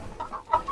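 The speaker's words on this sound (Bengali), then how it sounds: "সুটাম দেহের সোনালী মুরগি" A golden hen in a pigeon house gives a few quick, short clucks, close and moderately loud, within under a second.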